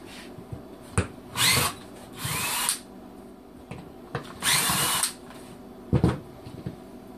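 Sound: power drill taking apart knife bevel jig

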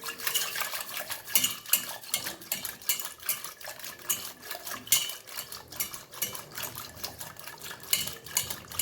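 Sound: whisking sour homemade curd into buttermilk

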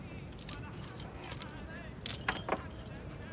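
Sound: keys jangling on a keychain

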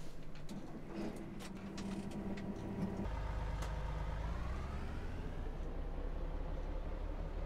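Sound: video game truck engine sound

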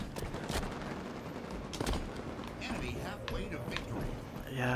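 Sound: automatic weapon gunfire in Halo 5 video game

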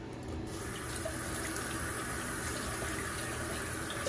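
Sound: tap running while washing hands at sink

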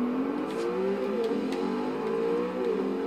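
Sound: car engine racing in Forza Horizon 2 video game

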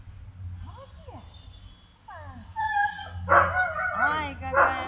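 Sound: puppies whimpering and yipping

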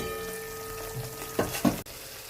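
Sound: spice paste frying in oil over low flame

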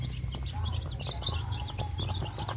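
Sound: young Burmese breed chickens clucking on a farm

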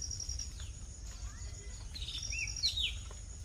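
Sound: sparrow chirping on farm

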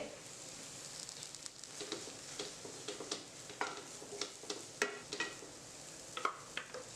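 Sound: curry leaves added to frying crab curry masala

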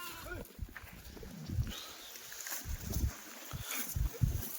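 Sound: sheep bleating

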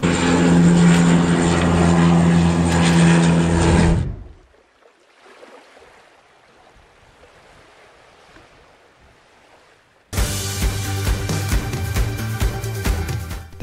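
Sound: Canadair CL415 amphibious firefighting aircraft flying

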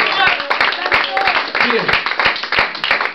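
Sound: congregation applause in church

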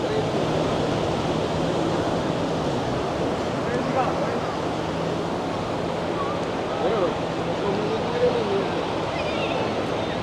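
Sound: large sea waves breaking on the beach at Cox's Bazar

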